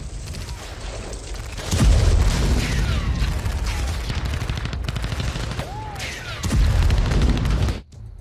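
Sustained heavy blasts and rumbling booms as a landmine explosion destroys a Russian tank in the war in Ukraine, loud bursts near the start and end with a rattling mechanical din in between.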